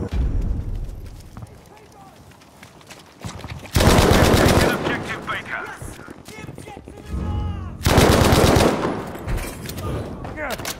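A Bren gun with a 3x scope fires in a video game in two loud, rapid automatic bursts about a second long, separated by quieter ambient game sounds and small clatters.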